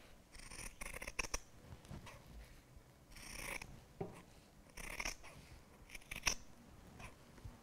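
Fabric scissors snip along a chalk line, cutting a long continuous spiral strip of fabric in irregular bursts of crisp, close, quiet shearing with pauses between cuts.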